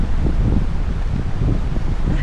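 Strong wind gusts roaring and buffeting the microphone outdoors during winter camping in wind and rain, a steady low rumble with shifting bursts and no talking.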